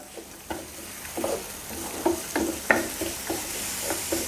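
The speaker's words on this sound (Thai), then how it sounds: "ผัดคลุกเคล้าให้เข้ากันครับ" Garlic and chili sizzle as they are stir-fried in a hot pan while a utensil scrapes and taps repeatedly, stirring in an uneven rhythm close by.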